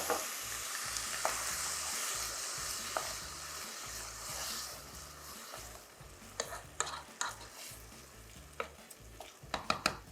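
Rice sizzles and is stirred in a pan while pine nut risotto cooks, a steady frying hiss with scraping strokes, then several sharp clicks near the end.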